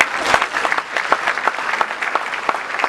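Applause from an audience greeting arriving guests at a Red Cross event, a brisk, fairly loud burst of many hands clapping with sharp individual claps standing out.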